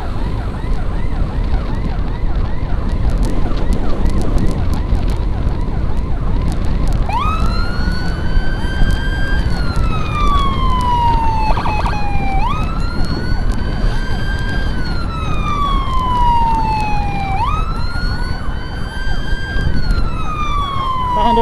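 An ambulance siren wails loud and close, rising and falling in repeated sweeps over a busy road roar of passing traffic and engines, with no talking heard.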